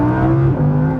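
An Audi R8 with a 5.2-litre V10 gives a loud, steady, close engine drone that swells slightly and eases, with no talking.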